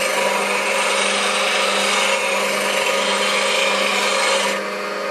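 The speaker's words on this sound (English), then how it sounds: "I'm grinding away good metal here" A bench grinder sharpening a bowl gouge, the steel tool held against the spinning wheel in a steady, continuous rasping grind with a constant motor hum beneath, loud and close, easing slightly near the end.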